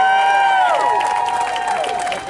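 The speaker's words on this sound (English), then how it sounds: "big round of applause for Hamilton Police Service" Crowd cheering with drawn-out voices and whoops over a bed of clapping at a speakers' gathering honoring a police service, fading slightly toward the end.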